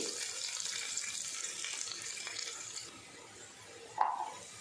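Mint leaves sizzling in hot oil for a mutton curry, a steady hissing fry that fades slightly toward the end, followed by a brief clink near the close.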